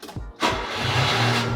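A Subaru Sambar kei truck, dead for months, cranks briefly and then fires up, its small engine settling into a steady idle at close range.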